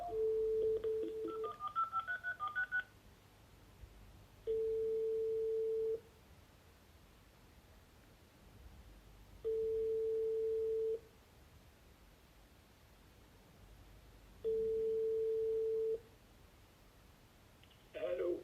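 A phone on speakerphone is dialed with a brief burst of keypad tones, then a steady ringback tone pulses several times at regular intervals, moderately loud over quiet room noise.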